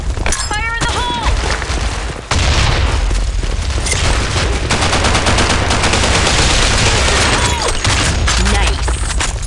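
Loud, dense bursts of automatic gunfire and a grenade blast in a BlackShot first-person shooter match, a heavy boom standing out among rapid, continuous shots throughout, with game voice lines in places.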